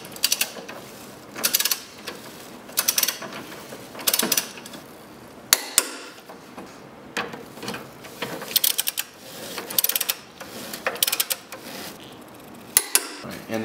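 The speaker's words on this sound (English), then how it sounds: "now we can torque these down" Torque wrench and ratchet working on motor mount bolts of a 2003-2013 Mazda3, tightened to about 77 foot-pounds: close, irregular bursts of clicking and ratcheting with short pauses between pulls, no talking.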